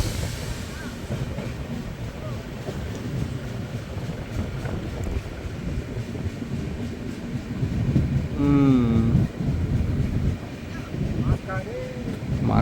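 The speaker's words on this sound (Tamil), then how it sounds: "மறுபடியும் சூடாயிருச்சு ட்ரெயின், கிளம்பிருச்சு ஃபாஸ்ட்டாக." A train pulls away and picks up speed on a forest line in elephant country, its steady rumble and wind rush filling the clip, with a brief horn-like tone near the end and voices nearby.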